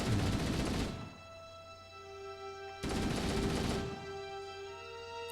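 Two loud bursts of gunfire strike rocks in Halo: Combat Evolved, each about a second long, with faint ringing debris tones lingering in the quiet between them.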